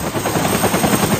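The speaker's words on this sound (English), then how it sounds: "The whoomp of a Huey helicopter." Loud, close Huey helicopter rotor thumping in a rapid steady rhythm, a continuous whoomping beat with engine roar underneath.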